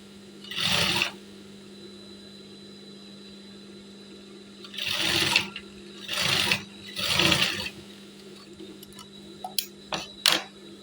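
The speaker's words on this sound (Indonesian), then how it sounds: "baru kita jahit seperti ini" Sewing machine stitching the sleeve of a women's Korpri uniform, running in four separate bursts of about a second each with quiet pauses between, ending with a few short taps.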